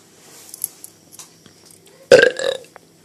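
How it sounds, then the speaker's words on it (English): A single loud, close burp erupts near the end of a quiet kitchen moment during cooking, a short guttural belch that trails off over about a second. "I'm not a fan of burping either."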